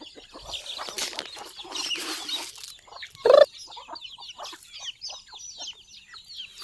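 Chickens cluck in scattered bursts close by, with a loud squawk partway through and busy chirping beneath.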